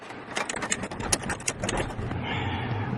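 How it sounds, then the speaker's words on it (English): A ratchet on a 10mm bolt holding the fuel filter clip of a Honda Prelude clicks in quick, close, crisp bursts before easing into a lower mechanical whir. "this ratchet is on the clip that holds the fuel filter in place"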